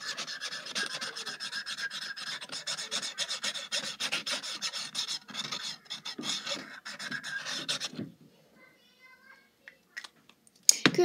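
Coloring on paper produces rapid rasping, scratching strokes close to the microphone for about eight seconds, followed by near silence with a few faint taps.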